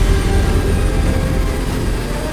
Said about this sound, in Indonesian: menggunakan helikopter AH-64 E-Block Compound